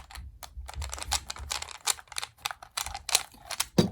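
Small Phillips screws being worked loose with a small driver from the bottom of an MCS Gen2 box magazine: a close series of sharp clicks and ratcheting ticks in irregular bursts, with no talking.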